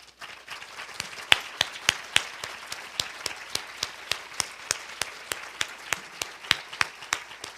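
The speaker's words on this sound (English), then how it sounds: "please stand up so we can give you a round of applause?" Modest applause at a women's leadership conference, sounding like a small group, with distinct individual claps landing in a fairly regular rhythm over a soft wash of clapping, fairly quiet and unbroken for several seconds.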